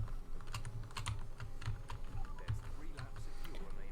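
Computer keyboard keys clack in quick, irregular bursts of close, crisp clicks while a racing game is played on the keyboard, with a steady low engine drone beneath.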